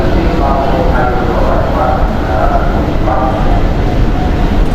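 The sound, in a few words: metro train at busy MRT station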